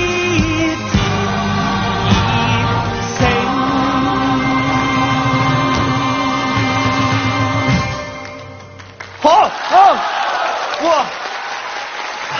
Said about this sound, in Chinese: 我们把掌声送给来自首都体育学院的同学们